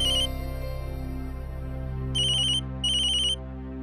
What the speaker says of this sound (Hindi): देवरा साहब का फोन।